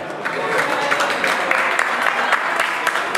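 An audience at a baptism and birthday party claps steadily and fairly loudly, a dense patter of many hands lasting a few seconds.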